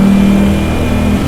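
A Ducati Streetfighter V4S engine revs loudly and close, a strong sustained snarl with a slight pitch shift over a brief moment, no talking.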